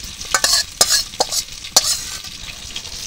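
Whole spices, black pepper among them, sizzle in hot oil in a wok for a Bengali jackfruit and prawn dish, with sharp crackling bursts and stirring scrapes over a steady frying hiss, close and fairly loud.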